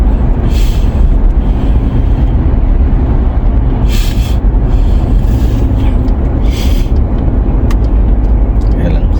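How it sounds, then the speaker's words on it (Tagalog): Road noise from inside a moving car in traffic, a loud continuous low rumble with brief hissing swells from passing vehicles, while people talk over it. "Ay, medyo traffic-traffic na."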